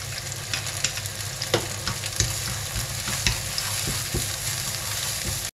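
Garlic sizzles and crackles steadily in a hot frying pan, a dense continuous fry with occasional sharper pops and stirring scrapes, close and alone without talk.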